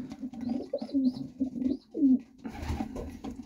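Young racing pigeons from a 2022 hatch cooing in a loft during banding: a run of low, throaty coos, close and moderately loud, with some handling rustle near the end.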